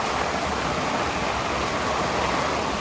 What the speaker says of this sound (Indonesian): Jadi sementara panen ini menyambut bulan puasa disambut dengan hujan. Begini dia. Hujannya lumayan deras.